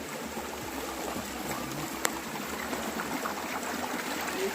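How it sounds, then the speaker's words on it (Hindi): Water rushes steadily from a flowing stream near the Dabarkhol waterfall outside Cuttack, a continuous broad hiss and gurgle heard at moderate distance with one brief sharp click. "यहाँ से वाटरफॉल का आवाज हमको आना शुरू हो गया है, चालू हो गया है, स्टार्ट हो गया है।"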